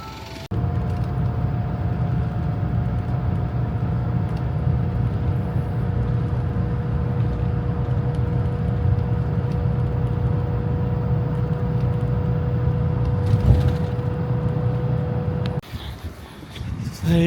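Steady low engine drone from a bus on the road in Okinawa, heard from inside, holding constant for most of the stretch with a faint tonal whine before cutting off near the end.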